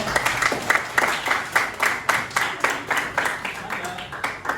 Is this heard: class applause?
yes